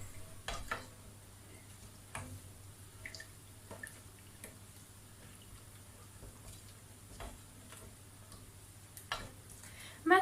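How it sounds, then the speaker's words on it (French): A wooden spoon works through thick halawa paste in a pot, making quiet scattered scrapes and taps over a faint low hum, with a louder knock near the end. "à mélanger jusqu'à ce qu'on ait une pâte"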